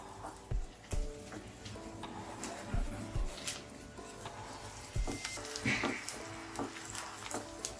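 Bread masala upma cooking in a pan gives a soft low sizzle, broken by irregular clacks and taps from a spoon stirring against the pan, close by and without speech.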